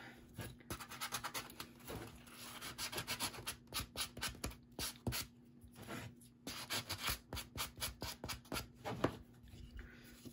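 Rough edges of a wooden Christmas craft gnome being rubbed smooth, a quiet, close series of short rhythmic scratching strokes with brief pauses between them.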